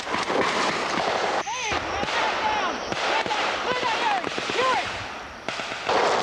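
Gunfire erupts in an enemy ambush on a special forces team as they cross a road near woods, with dense, loud bursts of rapid shots that continue almost without a break.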